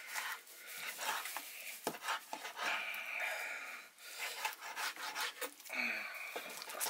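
A knife saws back and forth through pastrami on a wooden board, repeated rasping strokes close by, with a few sharp knocks of the blade against the wood.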